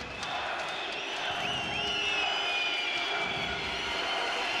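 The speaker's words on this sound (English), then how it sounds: "Russian crowd making themselves heard" A Russian crowd fills an arena at a 2014 CEV Champions League volleyball final, Halkbank Ankara against Belogorie Belgorod, with a steady, distant roar carrying sustained horn-like tones throughout and no clear breaks.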